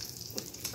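Sausages frying in too much oil in a pan, giving a steady soft sizzle with faint crackles and pops, quiet and close.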